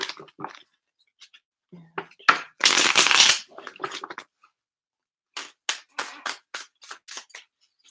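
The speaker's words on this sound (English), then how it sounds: "I feel like I'm not doing a great job shuffling because I keep seeing the same cards." Tarot cards being shuffled close by in bursts of riffling and slapping, with one long continuous riffle followed by a run of quick, crisp card snaps and short pauses between them.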